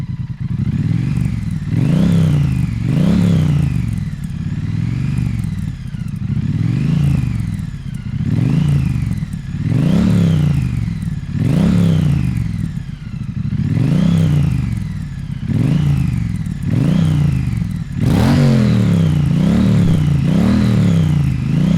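A Triumph Street Twin motorcycle on stock silencers idles and is blipped repeatedly, about nine rhythmic revs rising and falling, close and fairly loud with no talk.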